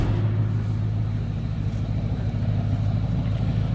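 A 1941 Ford 5-window coupe street rod idles steadily with a low, throaty exhaust rumble, continuous and fairly close, with no talking.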